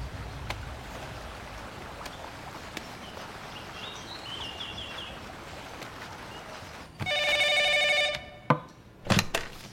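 A landline telephone at the front desk of a lodge rings in one loud, steady burst lasting about a second, after a stretch of quiet room ambience. A few sharp knocks or clatters follow the ring.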